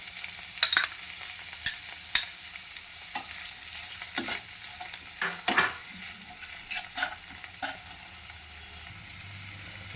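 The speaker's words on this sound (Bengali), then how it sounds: "এবার আমি দিয়ে দেবো এখানে পেঁয়াজ, কুচি করে রাখা পেঁয়াজ।" Chopped onions fry in a pan for chicken masala, a faint steady sizzle broken by close scraping and clinking as a spoon stirs them against the pan, with no talking.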